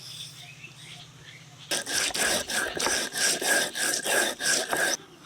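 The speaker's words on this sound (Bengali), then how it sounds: "জিরে ধনেগুলো যে ভেজে রেখেছি সেগুলো বাটবো" Roasted cumin and coriander are ground by hand in rhythmic scraping strokes, about a dozen close, loud rubs in a steady back-and-forth pattern after a quiet start.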